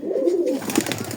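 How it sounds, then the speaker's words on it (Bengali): A pigeon back at its loft gives a close, loud throaty coo, followed by a burst of fluttering or rustling. "দেখেন খোপের কবুতর খোপ এসে ডাকাডাকি শুরু।"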